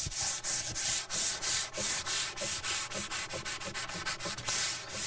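A large sanding block rubs back and forth over high build primer on a car body panel, a rhythmic series of close, raspy strokes heard alone.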